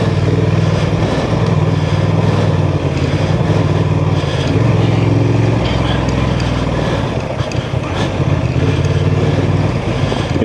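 A 2024 Honda Transalp 750 motorcycle rides off road at Enoree OHV, its engine droning loudly and steadily with small shifts in pitch, close up and continuous, mixed with wind and a faint voice.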